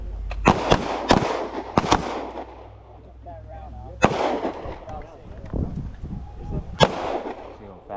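Pistol and rifle shots at an outdoor shooting range during a transition drill: several sharp, loud reports spaced irregularly, with people talking between them.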